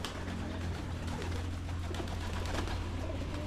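A pet pigeon coos softly nearby in repeated low, murmuring calls over a steady hum of background noise, with no one speaking.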